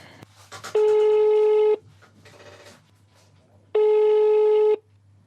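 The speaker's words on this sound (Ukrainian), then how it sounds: "Знову телефонуємо Олексенко Олександру Сергійовичу" Two long ringback tones on an unanswered telephone call, each lasting about a second, separated by a pause with faint background noise.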